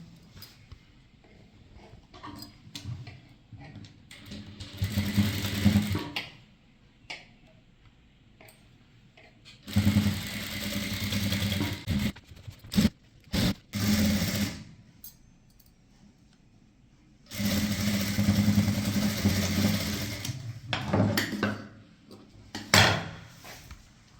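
Several separate runs of a sewing machine stitch along a folded blouse fabric edge, each a few seconds long and moderately loud, separated by quiet stretches with handling knocks and clicks.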